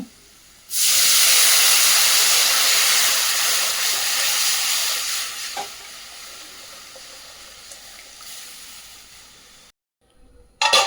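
Small onions are tempered in hot oil for urundai kuzhambu, giving a loud, steady hiss that erupts all at once, slowly eases over several seconds, then cuts out abruptly near the end.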